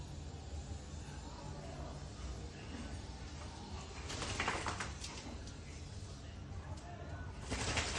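Domestic pigeons, a modified backless and an owl pigeon kept at home, coo softly with brief bursts of wing flapping or movement midway and near the end over a steady low background hum.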